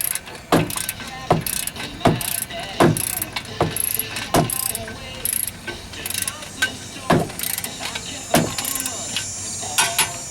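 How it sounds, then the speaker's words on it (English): A torque wrench on an extension ratchets a 19mm control arm bolt down to 50 foot-pounds on a Ford Windstar, giving close, sharp clicking strokes in irregular bursts over about ten seconds with faint background noise. "I had to get an extension for my torque wrench so I could fit it in here and get this locked down to 50 foot-pounds"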